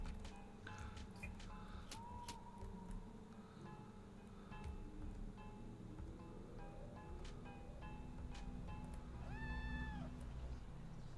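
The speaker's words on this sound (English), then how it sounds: "I've never heard your cats be that loud before." Cats meow loudly in a room during a game stream, several short calls scattered over a low background hum, with one long rising and falling meow near the end and no talking.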